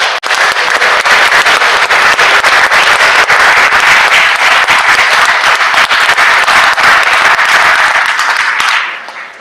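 Loud, sustained applause from a large state senate chamber full of people, steady clapping throughout before it tapers off at the very end.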